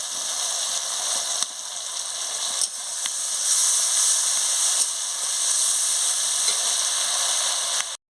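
Chili powder hits hot oil in a frying pan for shrimp malai curry, raising a bright, steady sizzle and hiss up close, broken by faint scrapes and taps of a spatula, with no talk.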